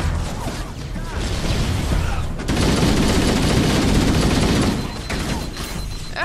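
Rapid bursts from a stationary mounted gun in Halo: Combat Evolved, dense continuous automatic fire with a thick, booming low end, loud and close, swelling then easing, with a player's voice audible over it.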